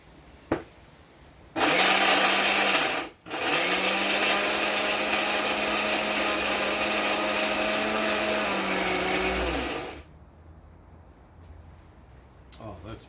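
A food processor mincing ingredients for Malaysian mee goreng makes a loud, steady motor whir for about eight seconds. It stops briefly once near the start, then cuts off, leaving a quiet room.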